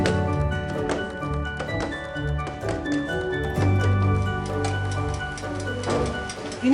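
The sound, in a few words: tapping cake mould with banana cake batter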